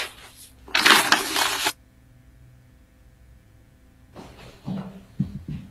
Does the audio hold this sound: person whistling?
no